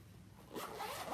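A zipper pulled along a bag while packing, a short rasping zip in the second half following a quiet stretch, close and fairly soft.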